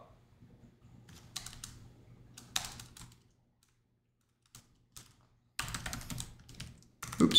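Bursts of computer keyboard typing while a Linux honeypot is being configured, short clusters of close key clicks separated by a quiet pause, with a faint low hum underneath.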